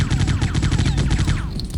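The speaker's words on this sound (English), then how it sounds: "He also starts with a machine gun" Machine gun firing in the Quake 3 mod Generations Arena, a fast, evenly spaced stream of sharp synthetic shots, loud and close, rattling continuously before tapering off at the end.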